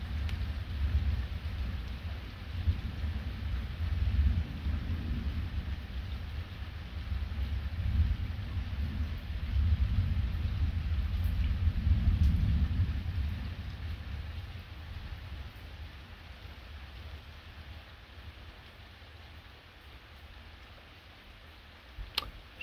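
A strong electrical thunderstorm at night in August, with steady rain pattering and low thunder rumbling that swells in the middle and fades toward the end, and a brief tick at the close.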